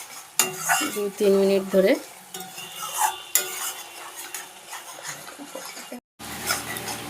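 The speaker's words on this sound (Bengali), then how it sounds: "মশলাটা ভালো করে কষাতে হবে" Spice masala being stirred and fried in a pan for dhokla curry, a steady sizzle with scraping spoon and clinking cookware, bursts of stirring then a brief pause; a short spoken phrase occurs.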